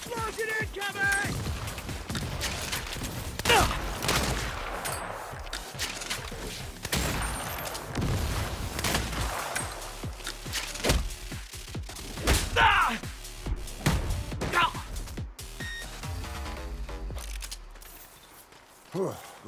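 Bursts of gunfire and explosions from the Saints Row video game crackle and thump through a busy mix of in-game action, with repeated sharp shots and heavier blasts, while characters' voices are heard at times.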